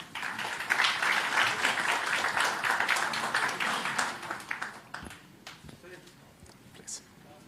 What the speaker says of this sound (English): Let's give a big applause to this forum.